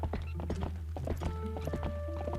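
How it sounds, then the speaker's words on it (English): Horse in the video game The Legend of Zelda: Twilight Princess, tired from sprinting: rhythmic clip-clop hoofbeats over a low steady hum, with a drawn-out snorting whinny rising midway, close and clear. "your horse will actually make sounds at you to tell you that she doesn't have any more energy left to do sprints"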